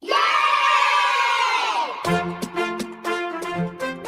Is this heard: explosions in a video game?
no